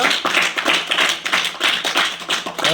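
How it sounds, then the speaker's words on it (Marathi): A small group of primary school children claps together in a classroom in a steady burst of applause, close and lively, the claps rapid and slightly uneven throughout. "टाळ्या वाजा त्याला एकदा"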